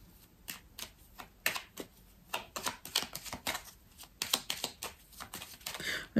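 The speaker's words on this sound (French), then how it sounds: "Alors, on va recouvrir certaines cartes." Tarot cards are flipped and laid down in a quick run of soft, crisp snaps and slaps, close and fairly quiet, with no talking.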